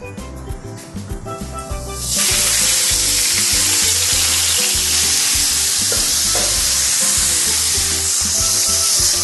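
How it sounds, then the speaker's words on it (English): Ground beef hits a hot skillet and erupts into a loud, sustained sizzle after a couple of seconds of quieter clattering and music, the frying hiss staying strong and close to the end. "So we have our skillet heating up here. I'm just going to add my ground beef."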